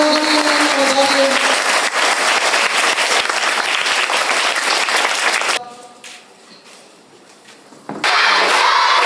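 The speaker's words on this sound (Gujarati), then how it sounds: "જોરદાર તાળી, આપણે બધા તાળીઓ વગાડીએ." Applause from an audience at a school gathering, a dense steady clatter of clapping that fills the clip, dips to quieter clapping for a couple of seconds, then swells loud again.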